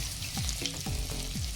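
Sauce sizzling and frying in a pan for a sausage dish, a steady close crackle with soft stirring scrapes every half second or so.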